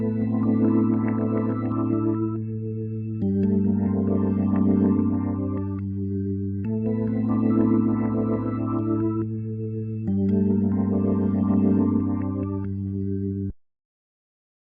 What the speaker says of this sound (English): the organ is from a plugin called Before 2,